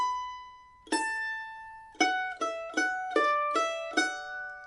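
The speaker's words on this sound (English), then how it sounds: "This is the first 2 bars of the B part." A mandolin picks the first two bars of the B part of an Irish jig, The Connaughtman's Rambles, a sustained opening note giving way to a steady string of bright plucked notes in triplet jig feel, close and unaccompanied.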